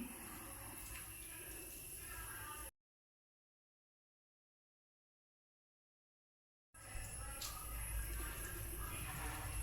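Tap water runs steadily into a pot for tea in a home kitchen, a continuous near splashing wash that cuts off to silence midway and then resumes.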